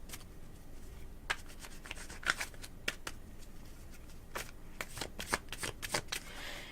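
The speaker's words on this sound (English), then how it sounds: "But I gotta shuffle them. And I like to shuffle them a lot because I want to make sure that they're really well shuffled" A deck of cards is shuffled again and again, giving bursts of riffling and crisp flicks with a few sharper snaps, soft and close, with no voices.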